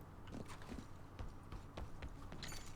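A horse in Red Dead Redemption 2 clip-clops along at a steady walking rhythm, faint under a low background hum, with no talk.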